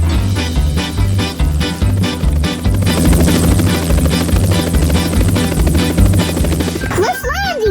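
A helicopter in a children's play scene, with toy bricks being fetched, flies with a loud steady rotor chop and engine drone throughout, under rhythmic pulsing music, ending with a short burst of other sounds.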